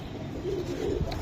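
Giribaj pigeons, a racing line, coo softly nearby, a low throaty murmur with a couple of brief warbled notes over faint background noise.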